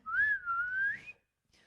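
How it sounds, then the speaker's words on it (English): A two-handed whistle, a single bright sustained tone sliding up, dipping and rising again for about a second, loud and close, followed by a faint brief trailing sound. "Ooh, a two-handed whistle."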